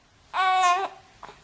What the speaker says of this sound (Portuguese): Neném de 3 meses conversando.